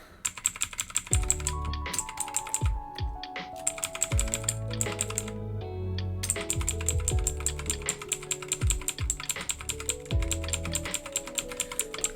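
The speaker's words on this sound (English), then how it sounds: "I really do have the clickiest new keyboard" Rapid clicky keystrokes on a mechanical computer keyboard, close and crisp, in irregular bursts with short pauses, with no voices.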